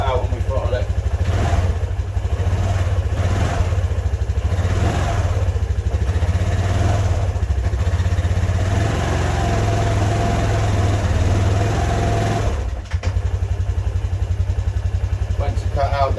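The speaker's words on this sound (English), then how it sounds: "Engine sounds really, really good." A Piaggio Zip 125 four-stroke scooter that sat unused for 17 years runs at a steady, rough idle for about twelve seconds, close and continuous, then cuts out abruptly near the end.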